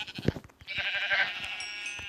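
A Minecraft sheep bleats in a long, wavering cry over some clicking and tapping noises, fairly close and clear.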